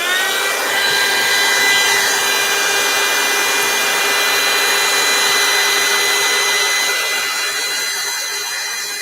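A hair dryer blows steadily on wet paint on a canvas, a loud, close, continuous whir that holds an even pitch throughout with no talking.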